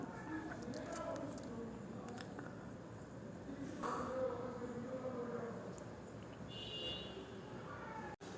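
A Sealdah–Namkhana suburban local train rumbles past nearby near Garia, Kolkata, a steady broad roar that swells and fades, with faint squeals and clanks over it.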